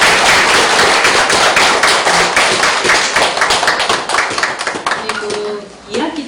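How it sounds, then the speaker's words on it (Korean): An audience at the close of a lecture on Hunminjeongeum gives a round of thank-you applause, loud, close clapping that stays dense for several seconds before tapering off, with voices talking over it. "감사의 박수"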